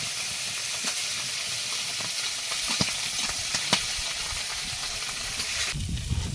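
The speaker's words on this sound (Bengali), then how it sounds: "প্রথমে কই মাছগুলো ভাজবো" Koi fish frying in a pan, a steady close hiss and sizzle of hot oil with occasional sharp pops and crackles, no voices.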